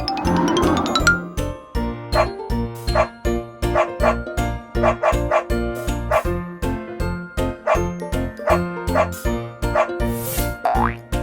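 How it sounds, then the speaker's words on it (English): A cartoon dog barks in a steady rhythmic series of loud, bouncy woofs, close and clear, set against a cheerful children's music track with springy boing effects and a tinkling chime near the end. "Dog."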